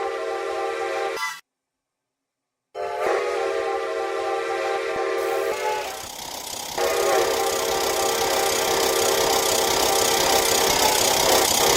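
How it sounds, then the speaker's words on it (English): A loud, sustained multi-tone steam train whistle in a video game sounds, cuts off for a moment, then blows again and holds long over a steady rumble. "hearing that whistle down the line whenever it goes"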